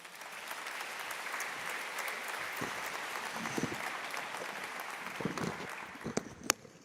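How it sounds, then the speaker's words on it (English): An audience at the ICML 2018 machine learning conference claps steadily in a hall, the applause sustained and even throughout with a few sharper claps near the end. "Let's give them a big hand of applause."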